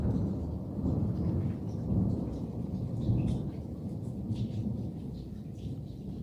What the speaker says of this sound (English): Hello, Thunder.